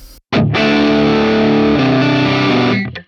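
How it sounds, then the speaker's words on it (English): A thick, distorted electric guitar chord blasts out after a short pick-in, played through the drive 1 channel of a Hotone Ampero's Marshall Silver Jubilee clone, sustaining loudly with a gritty overdriven tone before cutting off. "let's go to the drive 1, and let's see how this sounds"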